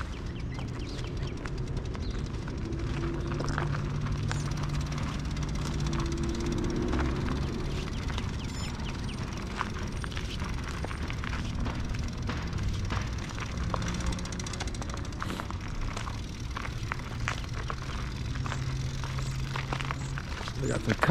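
An RJ Corman jet-engine railroad maintenance-of-way machine is in town doing track work, giving off a loud, steady broadband roar that runs the whole time, with faint voices and occasional outdoor chirps underneath.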